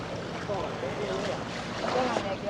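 Long-tail boat engine on the river in Krabi Town, Thailand, running with a steady, close droning rumble mixed with wind noise on the microphone.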